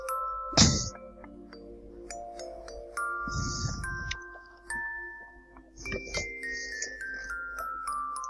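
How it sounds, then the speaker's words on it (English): A bell rung in the video game Go Go Nippon sounds as a loud struck chime that rings on for a moment, followed by a dense burst of struck tones and later further chiming tones over soft game music. "You must ring the bell, Ronnie."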